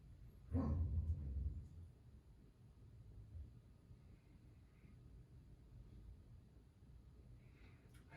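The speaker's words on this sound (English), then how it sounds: "Ignore the dogs in the background." Dogs bark in a short burst of several loud yaps early on, then fall quiet under faint room hiss while a Hunter 1930s ceiling fan spins down nearby.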